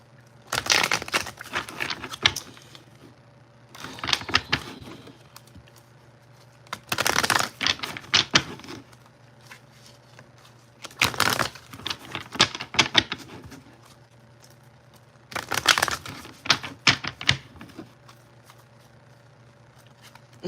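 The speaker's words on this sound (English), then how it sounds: "This deck kind of thick. I gotta split some of these cards up." A thick deck of playing cards being split and shuffled by hand, heard as four separate bursts of crisp riffling clatter, each lasting a couple of seconds, with quiet gaps between them and no talking.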